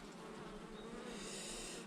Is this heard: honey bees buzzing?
yes